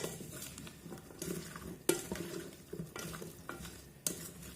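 Wet, muffled stirring and clinking of marinating potatoes in a bowl, with a few sharper knocks of a utensil against the side, steady and close.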